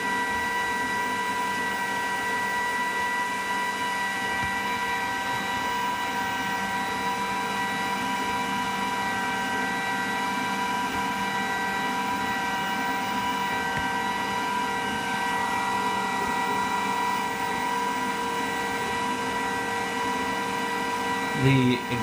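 Glowforge laser printer's exhaust fan running steadily, a constant tonal whine and hum like a blender at half speed, close and unchanging throughout.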